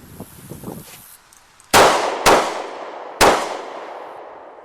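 Three sharp gunshots from a failure drill on a range: two quick shots about half a second apart, a brief pause, then a third, each loud and close with a ringing decay.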